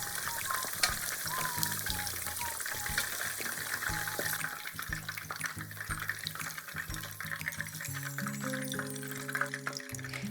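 Eggplant frying in hot oil for vegetarian sushi, a steady crackling sizzle throughout with soft clinks of utensils and background tonal noise, no voices.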